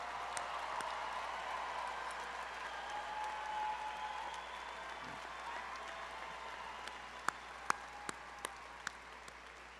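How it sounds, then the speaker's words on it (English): Sustained applause from a large audience at a spring university business school commencement ceremony, steady and moderately distant, with a few sharper individual claps standing out near the end. "please join me in a final round of applause"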